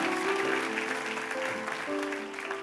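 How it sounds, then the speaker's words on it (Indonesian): Congregation clapping during a church sermon, a steady dense wash of applause with faint voices and tonal music underneath, continuous for a few seconds. "Beri tepuk tangan bagi Allah yang luar biasa."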